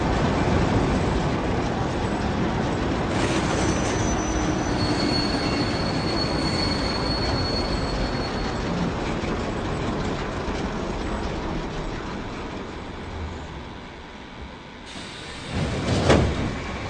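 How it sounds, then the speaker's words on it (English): A video game train rumbles steadily along the track, its wheels squealing with a high whine before it slows and comes to a stop, ending with a sharp clunk and hiss. "the train stopped and the door's open"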